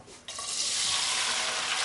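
After a brief quiet moment, a sudden wet sizzle rises in a pan as pasta is stirred with olive oil and bottarga sauce, holding steady and close for the remainder.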